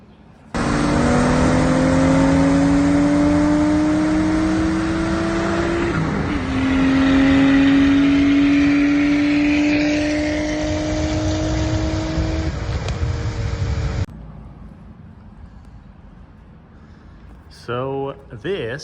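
Engine of a 1998 Mazda Roadster (Miata) running close by, loud and steady, its pitch climbing twice as it revs before dropping to a quieter idle for the last few seconds.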